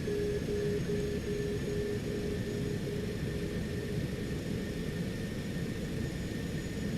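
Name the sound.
outer marker beacon tone in a Citation X flight simulator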